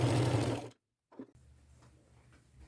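A sewing machine runs steadily as it zigzag-stitches along the overlapped edge of a large ruffle on a skirt, then falls briefly silent. After the pause it starts again, stitching more quietly at a close distance.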